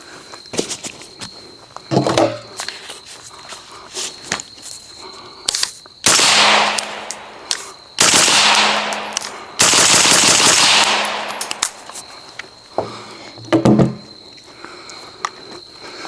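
Suppressed 5.56 rifle shots through an Alleycat suppressor on a 12.5-inch Psionics upper, fired outdoors: several loud, sharp reports with a few spaced single shots and a burst of closely spaced shots in the middle, separated by quieter background.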